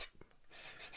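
Quiet, short scratchy strokes of a sanding stick rubbing back and forth over glue surfaces on a plastic scale model truck cab roof, close up and with no voices.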